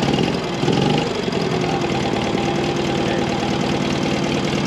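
A BMW R75 Wehrmacht motorcycle with sidecar runs its engine close by, a loud, steady rapid thumping idle with a brief swell near the start.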